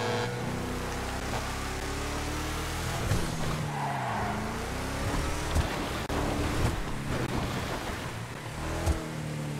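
The Riata off-road vehicle in a video game climbs a dirt trail with a continuous growling engine whose pitch rises and falls as it works for traction. Scattered bumps and rough terrain noise sit over the engine throughout.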